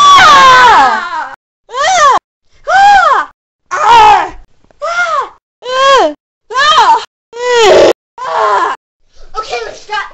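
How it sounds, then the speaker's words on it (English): Children scream in a long run of loud, separate bursts, about nine shrill cries with brief gaps between them, close and filling the whole stretch. "let's stop screaming"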